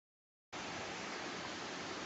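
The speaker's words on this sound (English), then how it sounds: "Now we found another waterfall." A waterfall pouring into a large body of water on a hiking trail, a steady broadband rush that starts abruptly and holds at an even level with no voices.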